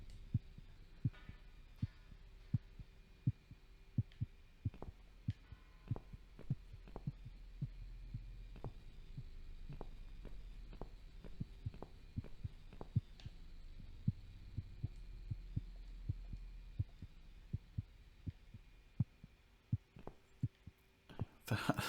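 Slow, regular heartbeat thuds in The Cat Lady horror game, a long series of soft low pulses over a faint steady hum, with no voices.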